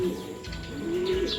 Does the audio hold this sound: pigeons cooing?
yes